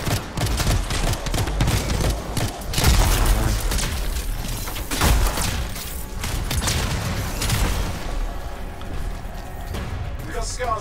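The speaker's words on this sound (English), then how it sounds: "I'm being shot a lot." Gunfire in the video game Anthem during a mission, continuous loud bursts mixed with heavy booms and mechanical clatter, dense combat noise throughout with a voice talking over it.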